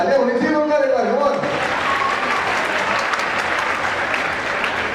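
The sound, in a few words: children applauding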